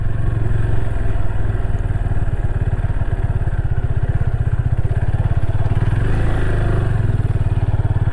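A motorcycle is ridden solo over rough, uneven ground on the way to Mukutmanipur. The engine drones loud, close and continuous with rattling clatter throughout, and no talking.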